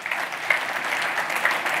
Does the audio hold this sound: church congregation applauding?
yes